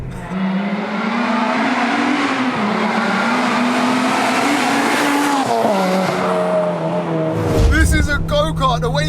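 A 316 bhp supercharged Honda DC5 Integra Type R with limited-slip diff driven hard, a loud close engine note rising and falling through revs, ending in a brief tire squeal.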